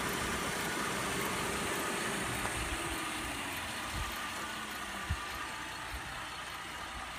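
A 2011 Chevy Traverse SUV's GM 3.6 VVT direct-injection engine idles steadily and close by, a constant mechanical hum with a faint high whine and occasional soft knocks, with no talking.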